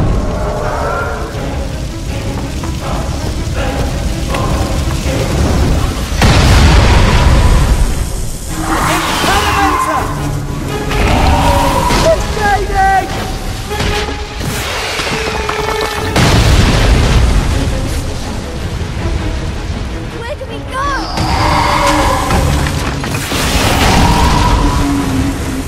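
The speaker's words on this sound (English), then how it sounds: "We'll set the place on fire!" A place is set ablaze in a Harry Potter video game, heard as continuous roaring fire with repeated booms, bursts and whooshes, loud and close, with no talk.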